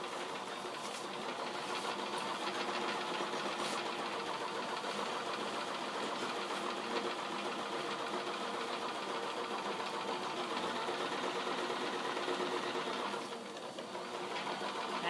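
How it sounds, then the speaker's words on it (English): Home sewing machine stitching a long seam down the side of a drawstring bag made from a t-shirt, a steady, even mechanical whir running close and unbroken throughout. "We're going to sew all the way down to the bottom of your bag, keeping it at 5/8 inch."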